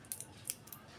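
Scissors snip a small plastic drinking straw about 6 mm wide into short pieces, giving several quick, crisp close cuts at an uneven pace against quiet background noise.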